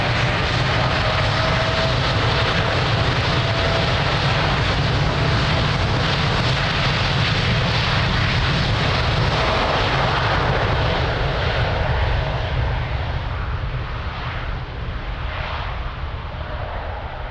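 Aircraft engines roar steadily at Lisbon Airport, a loud, continuous broadband rumble with a strong low drone that holds for the whole stretch and eases slightly near the end.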